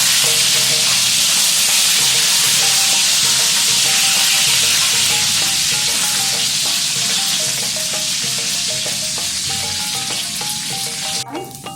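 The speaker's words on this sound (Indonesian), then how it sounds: "Kemudian kita goreng, masukkan ke dalam minyak panas, ke dalam kuali kita." Washed anchovies fry in hot oil in a wok, making a loud, steady sizzle and crackle that holds throughout. A brief clatter comes near the end.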